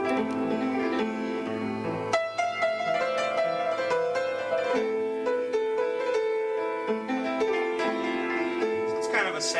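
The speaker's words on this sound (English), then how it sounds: "Now, minor sounds like this." A minor chord rings out, sustained and layered with fill-in notes, continuous and moderately loud for nearly ten seconds, with a few soft shifts in the voicing.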